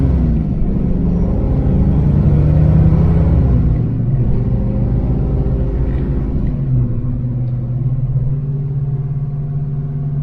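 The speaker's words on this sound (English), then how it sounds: "Cruising around the neighborhood in third gear, and the car really is not bucking or doing anything crazy." A Ford Foxbody car cruises through a neighborhood in third gear, its engine a deep, steady rumble heard close up from inside, smooth and continuous with no bucking or surges.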